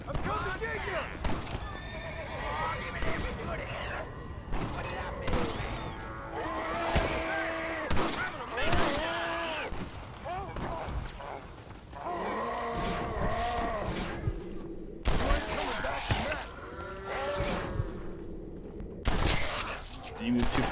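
Gunfire crackles in the video game Red Dead Redemption: Undead Nightmare, scattered shots mixed with horse whinnies and clip-clopping hooves, while a player talks over much of the action.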